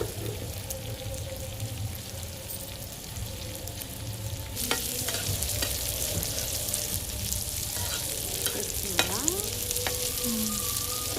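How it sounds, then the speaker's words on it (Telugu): Prawns fry in a pan with a continuous loud sizzle and spatters, while a utensil scrapes and stirs through them and faint kitchen clatter sits underneath. "రొయ్యలు ఫ్రై ఎవరికి? షణ్ముఖ్కి."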